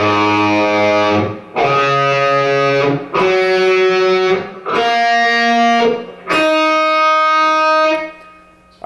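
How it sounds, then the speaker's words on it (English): Distorted electric guitar tuned down a half step strums a series of sustained chords, each ringing out about a second and a half before the next, loud and alone. "you're going to need to tune your guitar down a half step."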